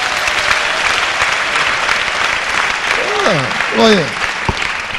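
A church congregation bursts into loud continuous applause and cheering for Jesus, with a voice speaking over the clapping and a few shouted whoops near the end.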